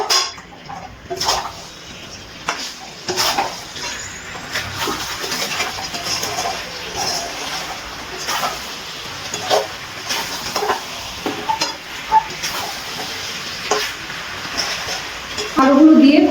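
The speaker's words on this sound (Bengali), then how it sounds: "আলুগুলো দিয়ে খুব ভালো করে সবকিছু মিশিয়ে নিচ্ছি।" Fried potatoes being stirred into a desi chicken curry in a pan, with steady scraping and clattering of a spatula against metal throughout, close and moderately loud, a faint sizzle beneath and a voice talking over it.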